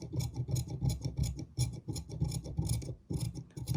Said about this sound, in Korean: 재단할 적에 조심조심 잘라 주셔야 돼요